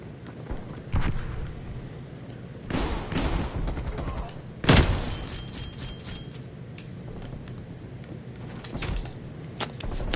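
Gunfire in the video game Call of Duty Warzone comes as a few sharp, scattered shots and bursts, one especially loud, over a steady background rumble of gameplay.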